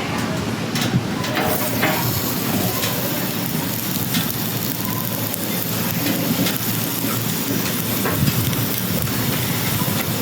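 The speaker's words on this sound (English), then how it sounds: "Not sure if you can hear it sizzling there," Steady crackling sizzle of food cooked without oil or butter on a hot Blackstone griddle, a dense hiss with faint pops and no talking.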